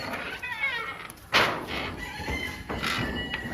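Foreign-breed chickens on a poultry farm crow and cluck, with a loud rooster call rising clearly, another following later, over a steady busy background of birds.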